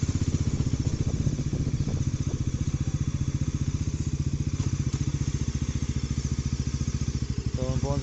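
A new Bajaj Pulsar NS400z engine held below 4000 rpm while warming up, a loud, even, rapid exhaust pulse that runs steadily and close for the whole stretch, with a faint rising whine near the end.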